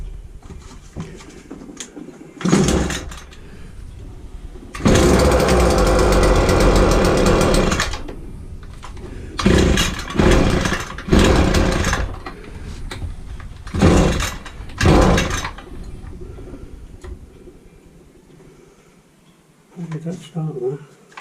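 Pull-start attempts on a Hyundai strimmer's small two-stroke engine after priming and choking, giving loud rasping bursts of varying length, one sustained run of a few seconds, then several short sputters, with quieter gaps and talk in between.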